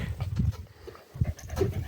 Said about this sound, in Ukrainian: Да, Манечка, балуються собачки, балуються, балуються.